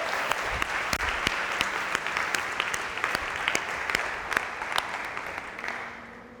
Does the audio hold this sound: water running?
no